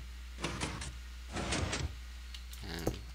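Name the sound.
Minecraft piston door closing, from a video game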